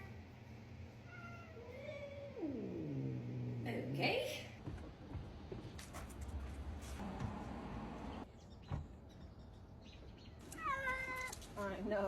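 Several cats meow and caterwaul as they are put into carriers for a vet trip. Drawn-out, wavering cries come up close, with rustling and handling noise in between and a person speaking briefly.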